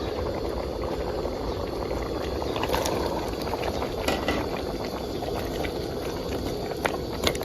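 A pot of pickled bamboo shoot curry with pork bones and het thop mushrooms boils steadily, a dense, continuous bubbling close by with occasional sharper pops.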